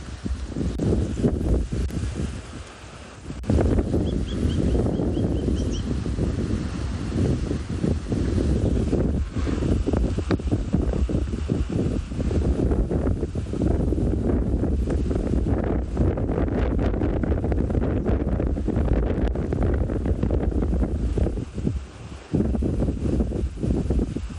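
Strong wind buffets the microphone throughout on a morning safari drive in South Africa, a loud continuous rumble with gusty rustling, briefly easing once near the start.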